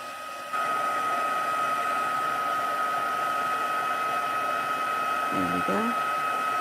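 A handheld heat tool melts embossing powder for card making, starting after a brief quiet moment as a loud, steady blowing whoosh with a constant whine. A voice briefly sounds near the end.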